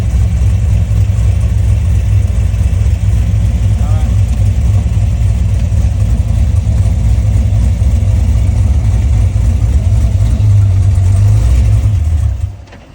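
A Toyota FRS drift car swapped with an LS3 V8 engine revs and holds a steady, loud, deep idle-rev drone throughout, close up, then cuts off abruptly near the end.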